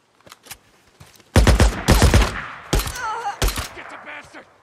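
Bursts of rapid gunfire in the zombie-survival game Days Gone: loud, close volleys of overlapping shots in several clusters after a few scattered early pops, with no speech.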